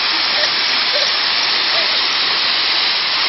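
Steady broadband rush of a small waterfall in Costa Rica, loud and continuous, with faint voices briefly audible underneath.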